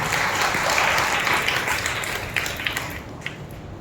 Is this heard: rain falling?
no